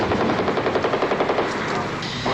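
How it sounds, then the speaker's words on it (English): Rapid machine-gun fire rattles in fast, steady bursts through Tripoli during the Lebanon war, loud and continuous over the whole stretch, with heavy rumbling gunfire behind it. "The air thunders with gunfire."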